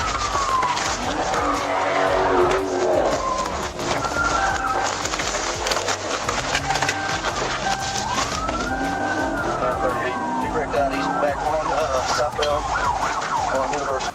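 Police sirens wail and sweep in pitch as a fleeing Dodge Charger races at high speed, with tires skidding and engines roaring loud and continuous.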